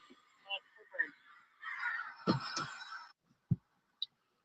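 A flock of birds honks overhead in scattered, nasal calls, some single and some overlapping, fairly faint, with a brief human voice mixed in.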